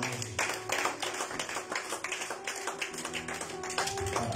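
A congregation at a Pentecost evening church service claps in praise, sharp individual hand claps layered into uneven bursts over a sustained musical tone, moderately close and quieter than a full roar.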